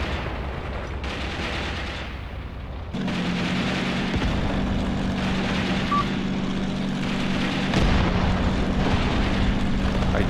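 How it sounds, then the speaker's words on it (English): An artillery shell bursting in the Graviteam Tactics wargame: heavy rumbling battlefield noise with a deep boom, a steady low engine drone underneath, and another thump near the end; no speech. "There comes a shell, but fell short. It hit a tree along the way."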